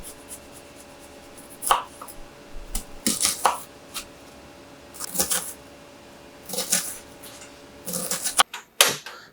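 Sweet peppers and onion being chopped on a cutting board in a home kitchen, with irregular bursts of sharp knife strikes separated by short pauses, close and fairly quiet, with no talking.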